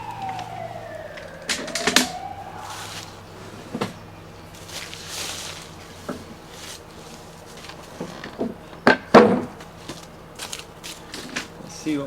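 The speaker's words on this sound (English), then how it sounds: "Police siren out there somewhere." A police siren wails faintly in the distance, a rising and falling tone in a woodworking workshop. Nearby tool knocks, clunks and scraping come in and out, and no one speaks.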